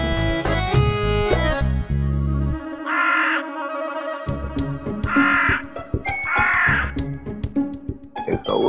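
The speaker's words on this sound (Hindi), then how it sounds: "कौवे क्यों काऊ काऊ कर रहे हैं?" Crows cawing in a series of loud harsh calls, with background music and other sounds around them.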